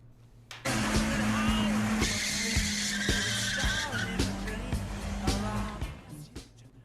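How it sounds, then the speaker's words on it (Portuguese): A podcast intro jingle built on car racing effects: engines roar and tires squeal in a loud, sustained burst after a brief quiet start, with musical stingers layered over the revving before it tapers off. "Por favor, aí, solta a vinheta, Paulinho."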